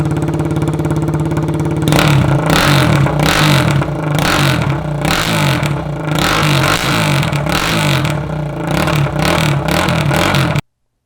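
Kawasaki Z125 motorcycle fitted with its first custom exhaust, revving hard and close up in repeated throttle blips that rise and fall, following a steadier idle at the start, with no talking.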